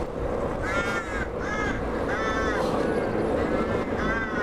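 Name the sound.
crows cawing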